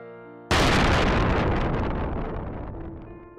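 A loud, sudden explosion bursts in over soft background music in a martial arts audio drama, then roars and rumbles away over about three seconds as the music returns.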